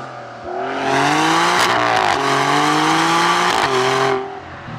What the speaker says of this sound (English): notice how it sounds even louder now